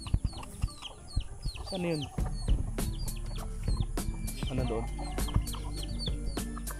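Chickens clucking and chattering nearby, with a person speaking briefly over the birds and some rustling sounds.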